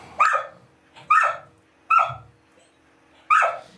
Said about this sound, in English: He's such a vocal dog.